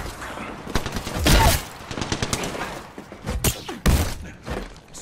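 Gunfire erupts in loud, close bursts: a cluster of rapid shots, heavy thumps and a few isolated cracks spread across the stretch, with ringing echoes between them.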